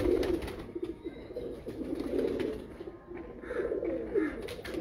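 A female Teddy pigeon coos in agitated, low, throaty bursts while held in the hand, close and steady, with faint chirps from other birds behind.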